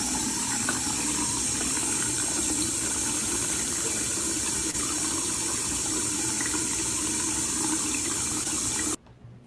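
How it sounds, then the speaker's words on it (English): Tap water running in Jackson, Mississippi, during the city's ongoing water crisis: a steady, loud, continuous gushing flow close by, with no talk, cutting off abruptly near the end. "Here's the water in Jackson, Mississippi."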